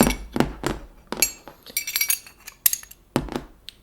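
The metal parts of an airsoft Glock clink and clatter as the barrel is pulled out of the slide. A series of sharp, close knocks and taps comes in irregular bursts.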